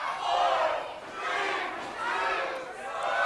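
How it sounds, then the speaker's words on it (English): An arena crowd at a wrestling rumble match boos in rolling waves of massed voices, a sustained roar that swells and eases several times without letup. "Oh, and you can hear the boos from the crowd."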